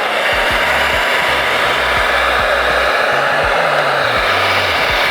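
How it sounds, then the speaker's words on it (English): A hair dryer blows steadily and close during a wig installation, a continuous loud whoosh with a rough motor drone and small shifts in pitch as it is moved, no talking over it. "Hair dryer, and now dry it some more."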